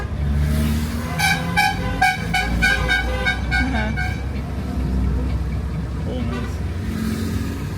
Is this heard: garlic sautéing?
no